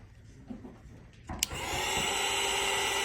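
After a quiet moment with faint handling noise, a dryer switches on to dry a watercolor painting, a click followed by a steady, fairly close whooshing whir that continues to the end.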